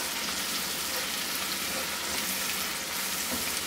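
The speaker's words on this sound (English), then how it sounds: "it's good to have it boil off so about half the liquid remains" Liquid boils off in a pan of spaghetti, giving a steady, dense sizzling hiss that carries on evenly and alone throughout.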